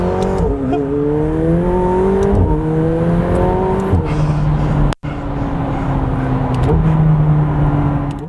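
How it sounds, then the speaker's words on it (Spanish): A McLaren 720S sports car pulls hard through a curve, its twin turbochargers whistling over a loud rising engine note. The engine climbs in pitch through several gears, with a sharp cut at each instant shift. "es por supuesto el sonido del turbo, el silbido de los turbocompresores"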